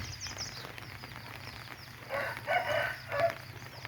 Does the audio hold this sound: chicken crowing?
yes